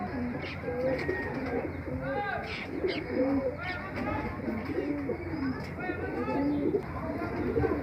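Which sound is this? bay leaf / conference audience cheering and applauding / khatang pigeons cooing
khatang pigeons cooing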